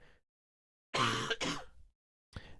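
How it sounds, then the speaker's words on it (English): A single throaty cough bursts out close by, a harsh double-pulsed sound, with a faint short noise after a pause. "Another cough incoming."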